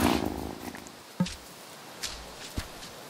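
Cat purring while getting head scratches in the farming life game Wylde Flowers, a soft low rumble at the start that fades, followed by a few faint thumps and light steps.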